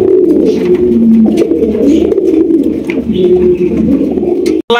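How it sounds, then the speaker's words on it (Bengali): Pigeons of the Sirazi and Lahori breeds coo steadily and close by, a continuous low burbling with a few brief louder notes, kept at a market for sale. "এখানে রয়েছে চমৎকার এক জোড়া সিরাজি কবুতর"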